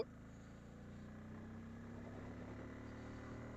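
An old motorbike climbing a hill in low gear, heard as a faint, steady engine drone with a low hum that holds constant throughout.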